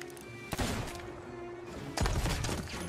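Sea of Thieves sniper rifle: two sharp, loud gunshots about one and a half seconds apart, each with a ringing tail, over low background game ambience.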